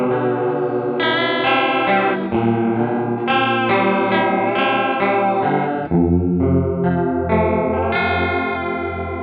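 Electric guitar played through a Boss Katana V3 amp with the chorus effect turned to maximum, a loud, continuous run of shimmering, slightly distorted chords and notes with no talking.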